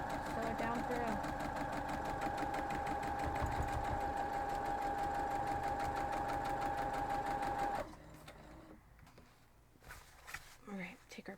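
A sewing machine stitches down a quilt block seam for a mitten-pattern Christmas quilt block, a steady fast mechanical hum running for about eight seconds before stopping, followed by quieter handling sounds.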